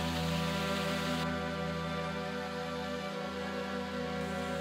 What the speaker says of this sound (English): The sound of the water is the only rhythm that matters.